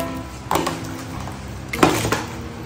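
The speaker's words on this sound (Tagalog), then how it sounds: "Halu-haluin lang natin ang ating seafood para manuot yung flavor." Seafood for a Cajun boil is stirred in a pot, giving two clattering, scraping bursts of utensil against metal over a faint steady background hiss.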